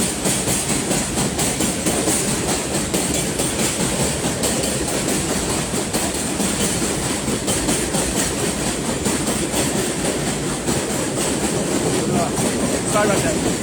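An elevated green-line subway train passes overhead at Sutter Avenue near Utica Avenue, a loud, steady rumble with rhythmic wheel clatter that fills the whole stretch without letting up.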